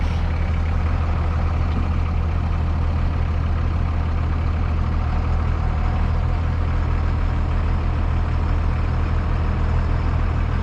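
Two-wheel-drive truck stuck in the mud, its engine droning steadily and loudly at a constant low rumble with no pauses.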